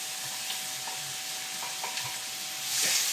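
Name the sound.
onions and garlic frying in grapeseed oil in a pan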